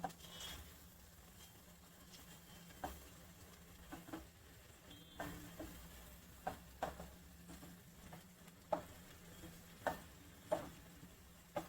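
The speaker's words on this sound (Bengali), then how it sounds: "জাস্ট একটুখানি আমি পনিরটা ভেজে নিলাম।" Paneer pieces fry lightly in oil in a pan, a faint, soft sizzle broken by scattered clicks and scrapes of stirring at a quiet, close range.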